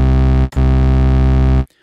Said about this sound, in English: Then we added some distortion to make it fatter,